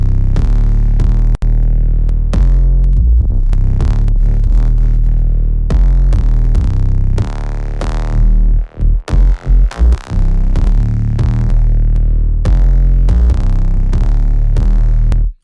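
A FAW Sublab XL synth plugin plays a loud, deep, throbbing bass line while its EQ tone-shaping knob is turned, so the tone shifts over time, with brief dropouts near the middle.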